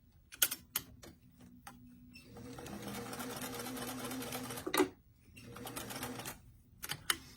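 A sewing machine stitches the sleeve onto a small doll jacket, opening with a few isolated clicks, then a steady whirring run of about two and a half seconds, a clack, and another burst of stitching, close and moderately loud.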